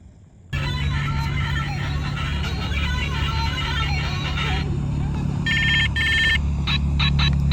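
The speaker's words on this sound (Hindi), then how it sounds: "भाई गुलशेर का फोन आ रहा है।" A mobile phone rings with an incoming call, its electronic ringtone repeating in short bursts, loud and close, over a steady low hum of background noise.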